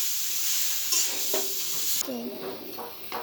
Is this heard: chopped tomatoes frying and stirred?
yes